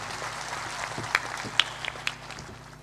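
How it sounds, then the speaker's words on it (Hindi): Scattered applause rises from an audience at a spiritual satsang gathering, soft and diffuse, with a few sharper claps standing out near the middle, fading toward the end. "जोरदार ताली बजाकर अभिनंदन करें"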